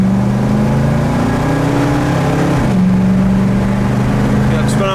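A 1966 Ford Mustang engine idles smoothly and loudly up close, a steady low hum whose pitch shifts slightly partway through, then settles into an even rumble.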